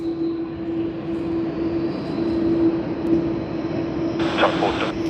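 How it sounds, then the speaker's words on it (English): A Thai Airways airliner taxis toward the runway at Sydney Airport, its engines producing a steady, droning hum with a sustained tonal whine, fairly loud and continuous throughout. "Alright, finally Thai Airways, we see it making its way to the runway."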